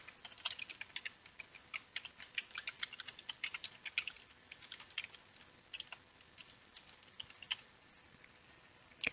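Someone types code on a computer keyboard, producing quiet, fast, irregular key clicks in a steady run with no voices.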